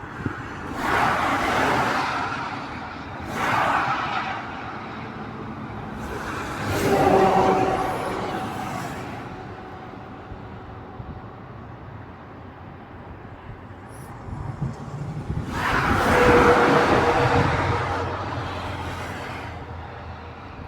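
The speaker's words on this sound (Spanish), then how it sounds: "Aún vienen algunos coches más, serán casi seguro los últimos que se pueden capturar en este disparo." Several cars passing one by one on a road at night, each swelling up and fading away, with quieter gaps of distant traffic hum in between.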